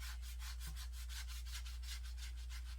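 Paint-loaded sponge rubbed back and forth on a wooden craft piece for summer decor, making a steady, even scrubbing rasp with regular strokes throughout, close and moderately quiet, with no talking.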